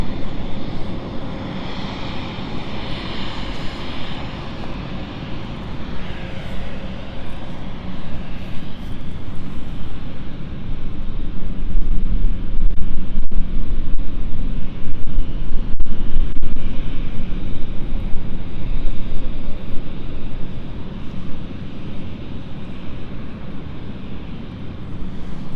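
An aircraft on a training flight at London City Airport makes a loud, sustained engine roar that swells toward the middle and then slowly fades, heard from the airport surroundings.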